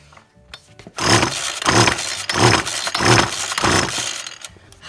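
A small engine is cranked over by hand to test for spark, producing five rhythmic, close whirring pulls after a quiet start. Each pull rises and falls with a mechanical rasp. No one speaks.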